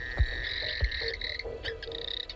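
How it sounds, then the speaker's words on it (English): Frogs calling at night along the South Alligator River in Kakadu during the wet season: a steady high trilling chorus with two low deep croaks near the start and scattered shorter calls, moderately near. "many of Kakadu's frogs are now awakened by the rain and the explosion of insects it brings"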